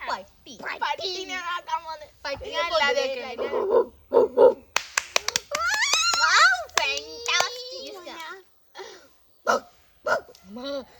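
In a mimicry contest, a person imitates a dog's barking with a string of sharp yelps between bursts of lively talk and claps, voices close and loud.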